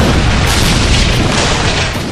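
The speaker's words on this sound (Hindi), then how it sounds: "अचानक पत्थर और आग का एक बड़ा पत्थर सुदूम के शहर के बीचों बीच गिरा, जिससे बहुत खौफनाक आवाज़ आई।" A huge fiery stone crashing down into the middle of a city, rendered as a dramatic explosion sound effect: a loud, continuous booming roar with heavy low rumble that sustains for about two seconds before easing slightly.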